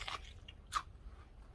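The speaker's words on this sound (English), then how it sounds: "The whole tostada is nice and crunchy." Two quick crunchy bites into a tostada smashburger with taco-seasoned beef, crisp close crackles spaced apart, faint and brief.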